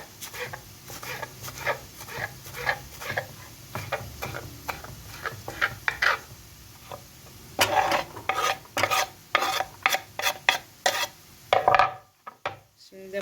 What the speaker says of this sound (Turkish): Taze soğan doğruyorum.